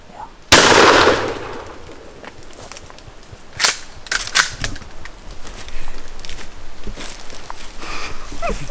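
A single loud, close gunshot cracks out during a turkey hunt in South Florida, followed by several seconds of quieter rustling and movement outdoors.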